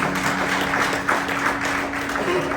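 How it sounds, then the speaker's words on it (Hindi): An audience at a cricket captains' meeting applauds a supporter, steady clapping that runs throughout with a voice over it. "वंस मोर इनके लिए ताली"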